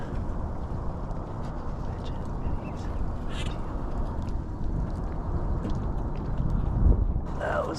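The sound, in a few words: ducks quacking in a flurry during a duck hunt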